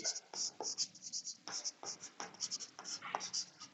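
Chalk or marker writing on a board during a physics lesson on voltage, with rapid scratchy strokes in a steady uneven rhythm, close and clear, while a teacher talks.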